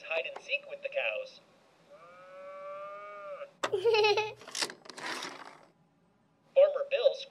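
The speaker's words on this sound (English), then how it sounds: "Farmer Bill plays hide and seek with the cows." A drawn-out cow moo in a cartoonish sound from the video game That Dragon, Cancer, between bursts of playful electronic effects and jingles.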